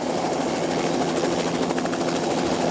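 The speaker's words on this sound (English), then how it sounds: "We flew in this helicopter with ITC Chief Operating Officer John Jippin" A helicopter's rotor throbs in a loud, steady drone from inside the helicopter during a power line inspection flight, close and constant throughout with no voices.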